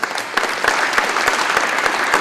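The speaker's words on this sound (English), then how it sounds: "So let's give these 6 guys a round of applause." Audience applause at a college athlete signing event, dense steady clapping from a crowd throughout with a few sharper individual claps standing out, no talking over it.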